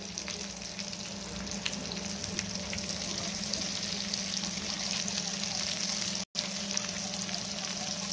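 Potato patties for ragda pattice sizzle steadily in a pan after being flipped, a close, even frying hiss with light crackles and a faint low hum beneath, briefly cutting out near the end.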